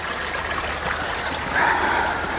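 Water flows out from inside a rocky hill at the Chilakalagutta shrine near Medaram, a steady close babbling trickle that swells slightly louder partway through.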